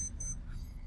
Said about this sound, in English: Oh, please excuse my watch beeping.